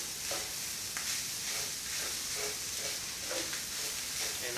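Garlic fried rice being stir-fried in a hot wok, with a steady loud sizzle and hiss under repeated rhythmic scraping and tossing strokes, close up and without talk.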